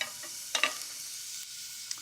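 Small-cut onions frying in a hot pan: soft continuous sizzle with a few sharp scraping clicks from stirring, close but fairly quiet, no voices.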